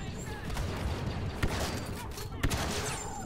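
Shotgun blasts in the Star Wars Battlefront 2 game, with two sharp reports about a second apart among scattered gunfire, under a voice.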